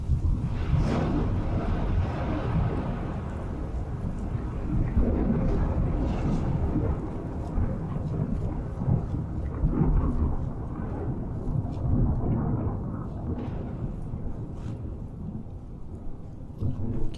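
Thunder and rain from a storm in the video game Fallout 4 make a steady, heavy rumble with rolling bursts and a dense hiss of rain throughout. The sound is loud and continuous, with no clear speech.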